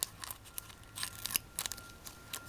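A series of sharp, quiet snips and crinkles up close as scissors cut open a Champions League 2014/2015 card packet, with short pauses between cuts.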